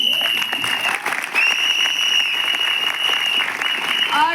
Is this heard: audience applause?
yes